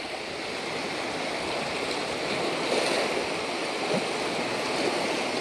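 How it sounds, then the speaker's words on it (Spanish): Sea waves wash gently onto a beach as the tide rises, heard as a continuous soft rushing wash that swells slightly midway, with no voices. "La marea va subiendo suavemente,"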